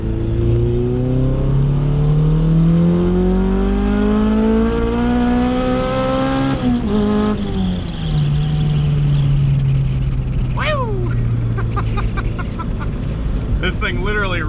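Turbocharged B20 VTEC Honda Civic, a red car with a D16Z6 turbo setup, pulling hard in third gear from inside the cabin, engine pitch climbing steadily and loudly, then a shift and renewed revving, with voices talking over it.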